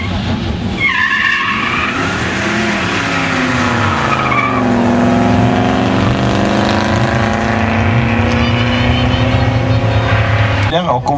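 Drag racing cars launching from the line, a loud rising engine roar with tire screech that climbs and then drops into a sustained high-revving howl, very close, with a commentator talking over it.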